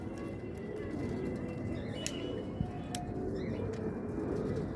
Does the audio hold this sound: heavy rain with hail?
no